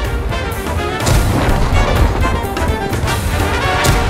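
Tank cannon fire in a tank combat video game destroys artillery pieces: loud, dense booming blasts and crashing impacts follow one another in quick succession, filling the mix without any voices.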